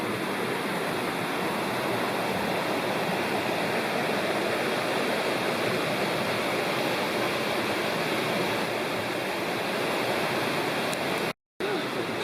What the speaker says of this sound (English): just upstream are some nice rapids